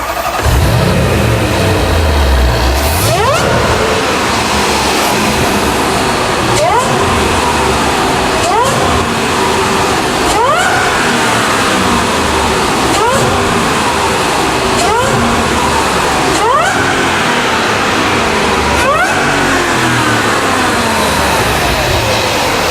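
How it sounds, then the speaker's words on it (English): A powerful supercharged 5.0 V8 in a Range Rover SVR with a cold air induction system cranks and fires up, then revs repeatedly in rising sweeps with a supercharger whine climbing each time, loud and close. "Hearing all that wonderful intake noise to that supercharger whining away as it pulls the air into the engine"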